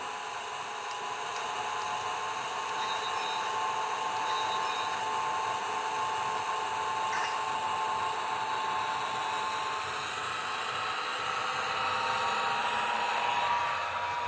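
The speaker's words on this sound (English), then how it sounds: "It's as close as I can get to sound like a turbine motor, locomotive." A scratch-built model PRR 6-8-6 turbine locomotive plays a jet-like turbine whine, a steady high hiss and whirr that holds constant and fairly loud throughout, with no speech.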